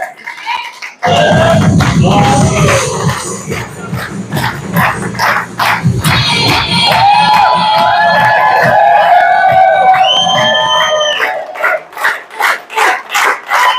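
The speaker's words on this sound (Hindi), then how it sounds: "तो जोरदार तालियां बजा लीजिए आप" Loud, dense applause and cheering from an audience at a presentation bursts in after a brief quiet start and stays strong throughout, with whoops and yelps rising over the clapping and fading slightly near the end.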